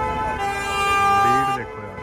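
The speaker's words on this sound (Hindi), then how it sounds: "हॉर्न भी सुनाई दे रहे इधर तो हमें" Car horns toot amid busy London street traffic, a sustained honk over the din with voices talking in the background.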